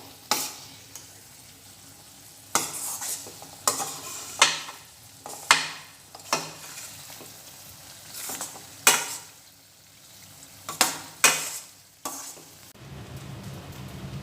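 A utensil stirs garlic pickle in a pan over a soft, continuous sizzle, with irregular loud scrapes and knocks every second or so before the frying noise shifts and settles.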